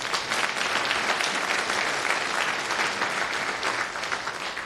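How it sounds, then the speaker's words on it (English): Dense audience applause at a tech conference talk, steady clapping from a large crowd filling the room for a few seconds. "please give them a big round of applause too"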